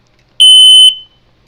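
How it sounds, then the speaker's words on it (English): A Servis smoke detector gives a single loud, shrill electronic beep of about half a second, alone and close, with a short ringing tail. "So one last beep for you."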